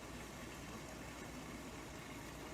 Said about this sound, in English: You can probably hear the sound of the pool engine.